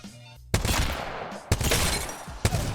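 CAR SMG firing in the video game Apex Legends, three loud close bursts of rapid automatic fire, each starting with a sharp attack and rattling on until the next burst.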